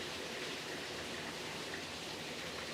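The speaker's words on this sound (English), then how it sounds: "The rain has arrived." Steady, even rain hiss with no distinct drops or other sounds, heard outdoors at a garden where snap peas grow, fairly faint and continuous throughout.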